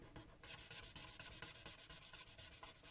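An alcohol marker running dry, rubbing on paper with quick repeated strokes that make a dry, scratchy, rhythmic swishing, close and faint, after a short pause at the start.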